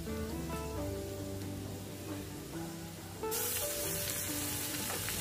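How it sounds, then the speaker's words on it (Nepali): Garlic-ginger paste and pounded black pepper masala fry in a pan for egg curry, a steady close sizzle under background music that jumps much louder partway through. "त्यसलाई राख्नुपर्छ। यतिको भइसकेपछि त्यसलाई पनि भुट्छौँ हामी।"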